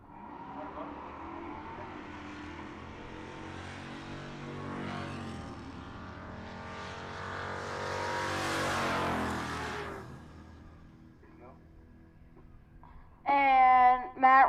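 Drag racing cars, one a 2003 Mustang, at Pueblo Motorsports Park: engines rev and roar with rising and falling pitch, growing loud and then fading, before a sharp, high engine burst at the very end.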